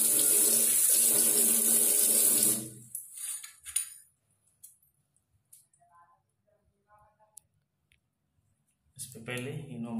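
Water sprays hard onto a bathroom grill for a few seconds, a loud hissing gush that cuts off abruptly, followed by quiet clicks and faint handling sounds before a voice begins.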